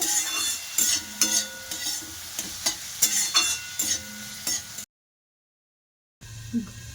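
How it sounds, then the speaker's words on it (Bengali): Cauliflower sautéing with cumin powder, meat masala and garam masala in a pan for gobi paratha filling, with steady sizzling and repeated sharp spatula scrapes and taps, then a brief silence and a return of soft stirring. "ভালো করে ফুলকপিটা কষিয়ে নেব"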